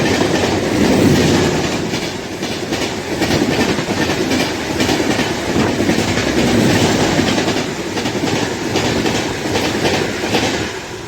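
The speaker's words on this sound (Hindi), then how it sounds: "1 train is moving towards Kachigouda or Secunderabad." An Indian Railways train passes close by at a crossing, its wheels beating a continuous loud clickety-clack rhythm across the rails for the full stretch, with no voices.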